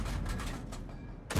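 Tank cannon fire from a Skoda T 25 in a video game, a dense run of overlapping gunshot-like blasts that fills the whole moment, with a sharp loud report closing it out.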